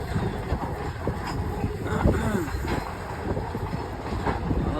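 A train rolls slowly past on a poorly maintained rural railway line, a continuous rumbling clatter of wheels and wagons heard from nearby with some wind noise and no talk.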